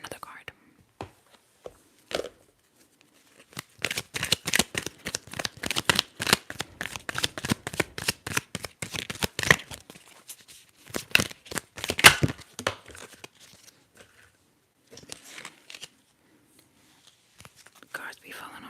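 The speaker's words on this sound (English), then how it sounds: "Cards be falling on the ground." Tarot cards are handled and dropped during a whispered reading, giving bursts of crisp papery shuffling and flicking slaps, dense in the middle and sparser toward the end, with soft whispering in between.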